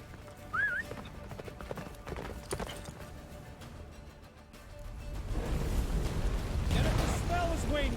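Roach the horse gallops in The Witcher 3 with a steady run of hoofbeats beneath a loud storm-like roar and music, while a voice talks over it, growing denser and louder toward the end.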